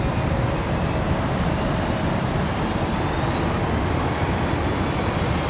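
An airplane arriving at Charlotte Douglas airport roars steadily in a dense, loud wash of jet noise with a faint whine riding above it, sustained without pause and with no talking.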